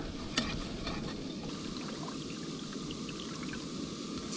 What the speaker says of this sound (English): I'll have to keep stirring this, make sure it doesn't burn.